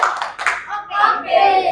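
Hand claps in a counting routine during a lesson, several sharp bursts in an uneven rhythm mixed with a person chanting along.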